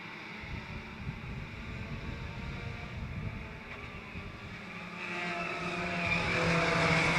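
Race cars roar around a short oval track in a continuous, steady engine drone that swells louder toward the end as the field comes closer, with no talk over it.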